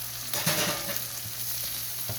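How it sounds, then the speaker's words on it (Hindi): Chicken frying in a pan for a Chinese-style biryani, a steady close sizzle with a few soft stirring scrapes, no voices. "अब इसको उतनी देर फ्राई करती हूँ, जब ये कलर वाइट होता है"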